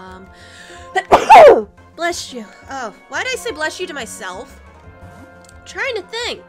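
A single loud sneeze bursts out near the microphone amid casual speech during a Pokemon Black Nuzlocke gameplay commentary, with talking continuing before and after it.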